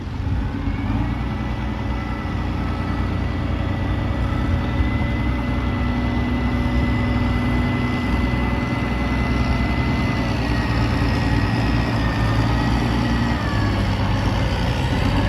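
A ten-wheel dump truck with a 10-speed Eaton gearbox reverses to tip soil at a creek dredging site in Trakan Phuet Phon district; its heavy diesel engine drones loudly and steadily throughout, with no voices.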